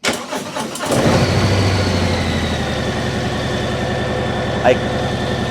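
A Harley-Davidson M8 Heritage motorcycle engine starts with a short crank, then settles into a steady, loping idle in neutral, close and loud, with a brief mechanical clunk partway through.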